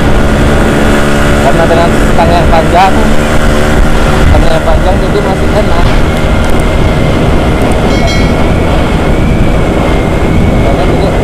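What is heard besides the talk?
Yamaha YT115 trail motorcycle engine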